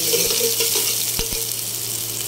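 Garlic sizzles in hot oil in a pan, a dense steady crackle close up, broken by a couple of soft knocks from a utensil, with no voices.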